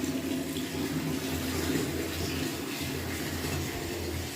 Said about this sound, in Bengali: এখানে তো গরম জল পড়বে। জলটা ভরতে থাক